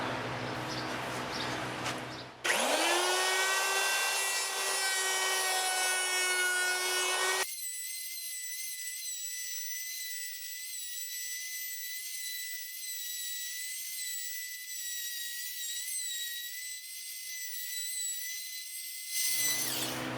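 A homemade thickness sander grinds through spalted wood, a harsh whirring drone that starts abruptly, shifts pitch partway as the board feeds through, then runs steadily close before the load drops off near the end.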